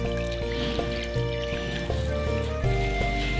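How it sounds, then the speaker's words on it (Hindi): Water being poured into a bowl of raw chicken pieces cleaned with lemon, a steady continuous trickle and fill that stays close and fairly loud throughout. "थोड़ी देर के लिए जो है वो मैंने पानी डालना है, पानी शामिल करना है।"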